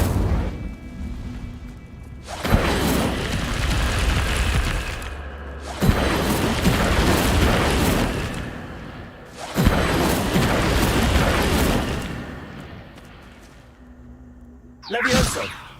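Fire spell bursts in Hogwarts Legacy, a run of three long roaring blasts with sharp booming onsets, each followed by a brief gap, and a shorter burst at the end, loud and dense throughout.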